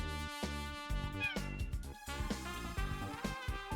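Cat meows from the Danganronpa 2: Goodbye Despair video game ring out over game music, a few short cries within a few seconds.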